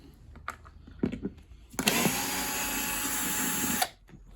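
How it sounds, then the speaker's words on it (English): Screws are driven out of a Numatic Henry Micro vacuum cleaner: a few light handling clicks, then a close, loud motorized whir lasting about two seconds that cuts off sharply. "Let's get these screws out"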